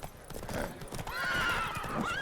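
Horses gallop with steady clip-clop hoofbeats and a loud neigh during a horse race in The Witcher 3 video game, heard close up with no speech.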